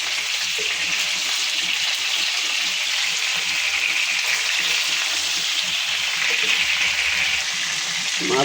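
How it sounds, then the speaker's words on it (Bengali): Large silver fish, just flipped, frying in hot oil in a pan, producing a continuous dense sizzle and spatter at an even level from start to finish. "মাছগুলো ভালোভাবে উল্টে নিলাম।"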